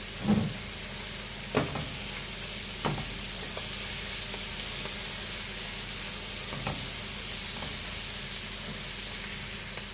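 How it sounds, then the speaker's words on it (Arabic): Chicken and vegetables sautéing in a hot pan for breaded chicken, a steady loud sizzle with a few scrapes and stirs of a utensil against the pan. "بصوا انا بعمل تشويحه بسيطه"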